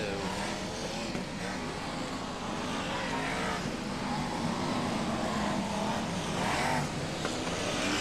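BriSCA Formula 1 stock cars race around an oval at Long Eaton in 1994, a loud continuous roar of several engines with rising and falling passes, steady throughout with no gaps.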